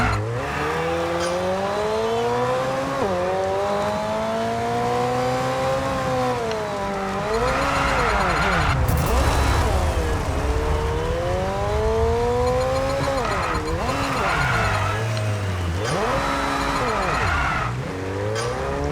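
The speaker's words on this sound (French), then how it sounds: "Ah non, elle part en tête à queue toute seule la voiture" Race car in F1 22 spinning out at the Australian Grand Prix: loud engine whine rising and falling in sweeping pitch bends, with tire squeal and skidding throughout, close and continuous.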